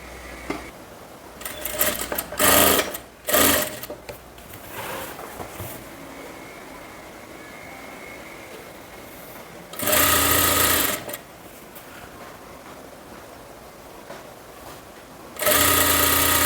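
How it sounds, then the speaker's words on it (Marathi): Electric sewing machine stitching the hem of a kurti, running in slow short bursts of rapid mechanical whirring, then two longer loud runs separated by quieter pauses, close by with no talking. "तर अतिशय सावकाश पद्धतीने इथे आपल्याला शिलाई मारायची"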